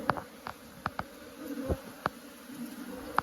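Honey bees at an opened hive during a brood-frame inspection, a steady low hum of many insects with sharp knocks and clicks at irregular intervals, moderately loud and close, with no talking.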